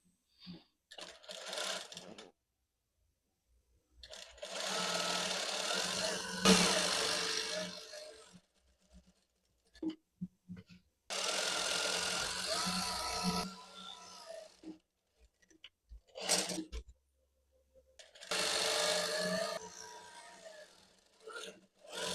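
Sewing machine stitching the sleeve hem of a kameez, running in several bursts of steady close whirring with pauses between, someone talking quietly in the gaps.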